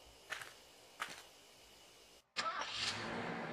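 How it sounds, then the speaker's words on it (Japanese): In a horror video game, two faint thuds like car doors closing are followed by a brief hush and then an engine starting and running on in a steady rumble as the car drives off. "これ車乗った音かな"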